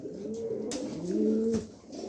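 A pair of pigeons in a breeding cage coo with a few low, rolling, drawn-out calls, close and clear, one brief sharper sound breaking in midway.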